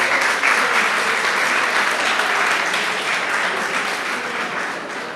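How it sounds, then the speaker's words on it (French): Audience applause at a Génie en Herbe quiz event at a Senegalese lycée, greeting the school's president before her speech; dense, steady clapping from a large crowd, sustained throughout and easing slightly toward the end. "Sous vos applaudissements,"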